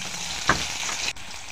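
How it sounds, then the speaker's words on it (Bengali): Stuffed karkol frying in hot oil, a steady close sizzle with a brief louder splash as pieces drop in, no talking. "তেলের মধ্যে গুঁড়ো গুঁড়ো দিয়ে দিচ্ছি।"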